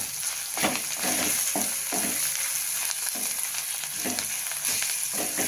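Ginger, garlic and coriander paste sautéing in hot oil for masala bhindi, with a loud continuous sizzle and frequent rhythmic scraping strokes of a spatula stirring in the pan.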